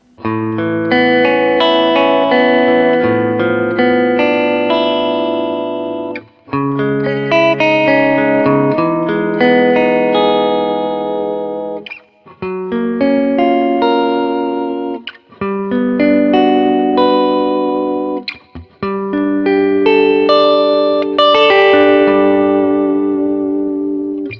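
Clean electric guitar chords from a custom-shop guitar with both P90 pickups on ring out loud and close, strummed in several phrases with brief pauses between them, a touch of effects shimmer.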